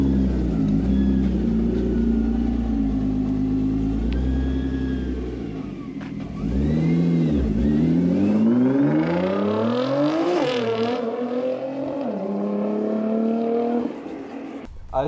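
Nissan GT-R sports car engine revving hard, rising and falling in several loud sweeping pulls with a deep rumble, close and continuous, easing off near the end.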